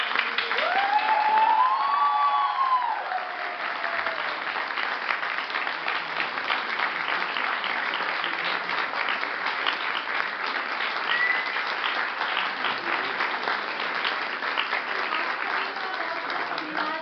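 An audience at a stage performance of a play breaks into steady applause for the director, a dense wash of clapping that holds evenly for the whole stretch, with a brief spoken word near the start.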